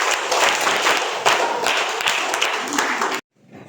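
Enthusiastic applause from a group of school students and teachers during a field visit, dense rapid clapping for about three seconds before stopping abruptly, leaving near silence.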